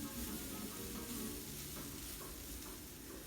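Dry rice browning in a pan for Spanish rice, a soft continuous sizzle with quiet scraping as it is stirred, faint and steady throughout with no talk.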